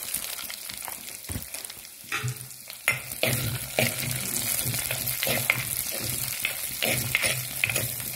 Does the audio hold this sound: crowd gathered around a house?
no